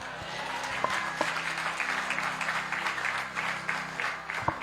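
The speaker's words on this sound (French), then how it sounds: "Applaudissez bon Dieu plus fort" Church audience applauding at a service, a sustained wash of many hands clapping with a few sharper individual claps standing out, fairly loud and continuous for several seconds.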